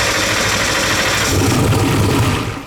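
Turbocharged Mustang engine running on a hub dyno while misfiring with a weak fire. It gives a loud, steady, rough roar throughout, then fades at the very end.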